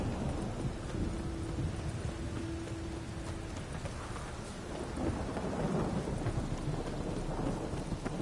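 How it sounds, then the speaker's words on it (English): Steady heavy rain with a rolling rumble of thunder in The Witcher 3 video game, a continuous downpour filling the scene with no talk over it. "Must be mad rolling around in this rain."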